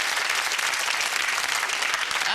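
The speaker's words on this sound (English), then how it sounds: "Round of applause for Cyril!" Studio audience applause for a game show contestant, a steady dense clapping wash throughout, loud and close, with no voices over it.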